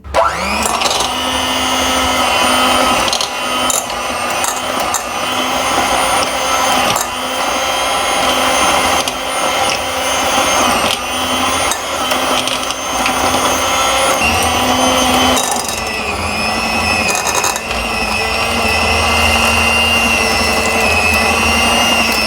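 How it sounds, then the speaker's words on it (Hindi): An electric mixer beats 200 grams of butter for a coconut cake, a loud, steady motorized whir with pitch shifts as the beaters work through the butter, running continuously with short dips and no talking. "200 ग्राम मैंने बटर लिया है, जिसको मैं अच्छे तरीके से बीट करूँगी"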